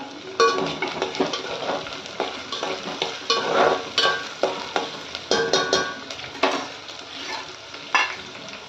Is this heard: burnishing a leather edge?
no